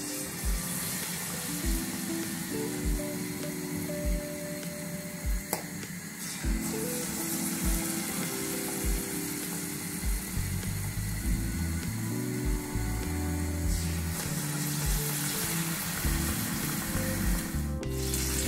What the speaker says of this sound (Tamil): இப்போ நான் இந்த பயறு உருண்டைகளை இந்த மாவுக்குள்ள துவைச்சு எடுத்து பொரிக்க போறேன்